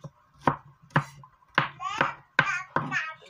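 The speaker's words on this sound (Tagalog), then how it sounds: "Iwa tayo ng sibuyas mga kamansi." A knife slices onions on a cutting board while a crab in coconut milk dish is prepared, making a series of crisp, close cuts at an uneven pace.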